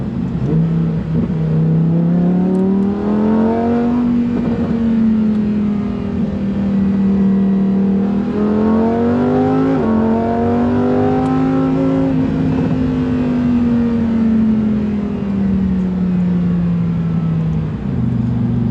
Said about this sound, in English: The car is automatically shifting down to 6th gear instead of 7th, now 5th gear